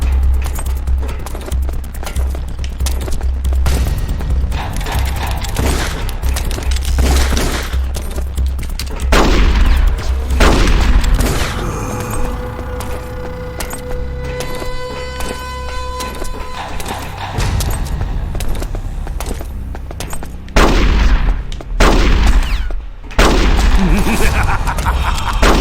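Dense, loud gunfire in Metal Gear Solid: The Twin Snakes, with rapid bursts and repeated heavy shots. Brief lulls and clicks break the shooting before it surges again.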